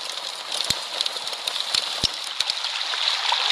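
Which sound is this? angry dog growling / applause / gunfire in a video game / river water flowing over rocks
river water flowing over rocks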